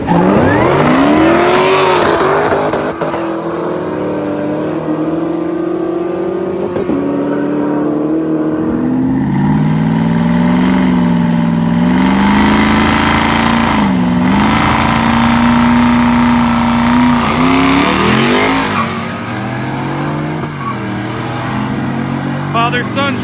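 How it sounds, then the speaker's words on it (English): A Shelby GT500 and a bolt-on 2019 Camaro run a father-and-son drag race, engines roaring loud and steady as they rev and pull through the gears, with talk over the noise. "Shelby GT500 versus, I believe, bolt-on 2019 Camaro."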